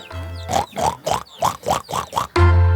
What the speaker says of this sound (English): Look at this big guy over here, Mr. Oink